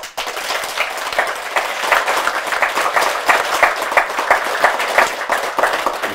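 Sustained applause from an audience at a Buddhist dharma talk during a Haeinsa temple pilgrimage, many hands clapping steadily for several seconds, loud and close.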